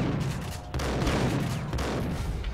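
Heavy shotgun blasts from the Max Payne game, a bank robbery shootout, boom in a couple of loud booming reports with echoing tails and a chaotic firefight wash between them.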